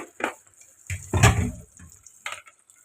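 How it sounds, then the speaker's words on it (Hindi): Water is poured into a bucket while arvi (taro root) is washed for a dhaba-style arvi salan, several short splashing pours and trickles with brief pauses between them, close by. "थोड़ा सा पानी और डालेंगे,"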